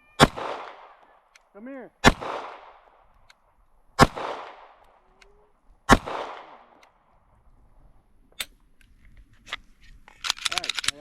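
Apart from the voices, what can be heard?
gunshots from a Ruger RXM pistol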